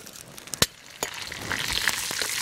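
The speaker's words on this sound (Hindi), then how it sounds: "इसमें हम डाल देते हैं जीरा जीरा चटक जाएगा" Sharp crackles and pops from cumin seeds hitting hot mustard oil, a few loud snaps early, then a steady, busy sizzle building underneath.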